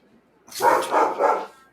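A husky barks three times in quick succession, loud and close, at someone walking a dog past the house, with a short pause before the first bark.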